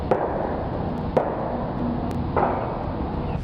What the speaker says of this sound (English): Moments later, 3 gunshots shattered the quiet.